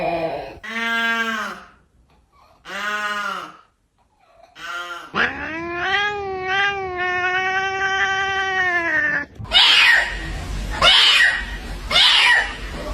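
A cat making weird meows and caterwauls, several short close wailing cries separated by pauses, then a long drawn-out yowl and harsh, breathy hissing bursts at the end.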